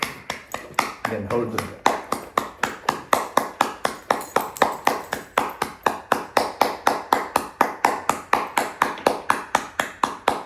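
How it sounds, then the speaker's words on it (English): Rhythmic hand clapping during a yoga breathwork session, a long steady series of sharp claps at an even pace, close and loud, with a calm instructor's voice speaking over the start. "Now clap as you breathe out"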